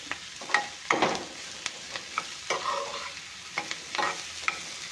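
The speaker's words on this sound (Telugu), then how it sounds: "జస్ట్ ఫ్రై అవ్వడం కోసం కొంచెం ఇవన్నీ బాగా ఫ్రై చేసుకో" Stuffing for stuffed bitter gourd fries in a pan, giving a soft, steady sizzle broken by intermittent scrapes and clicks of stirring, close and moderately quiet with no talk.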